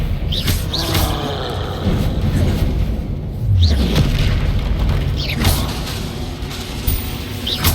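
Spell blasts in Hogwarts Legacy, the Confringo explosive spell fired again and again, give deep booming impacts and rumbling roars with mechanical clatter layered over dense, loud game sound that runs throughout.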